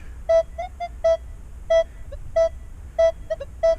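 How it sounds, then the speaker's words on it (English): A metal detector sweeps over a zinc coin and a penny, sending out a string of short, clear electronic tones in an uneven rhythm, some longer beeps and some clipped blips, close and distinct over a low background hum. "we're going to sweep this zinc and penny here and let you listen to this detector"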